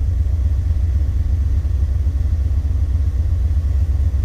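Car engine running steadily as it is put in gear, a low, even rumble with slight clatter, close and constant, with no voices.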